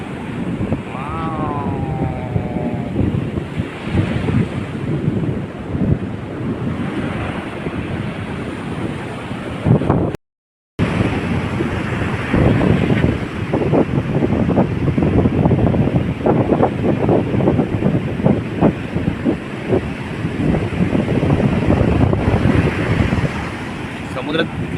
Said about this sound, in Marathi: वारो खूप जोरात आहे.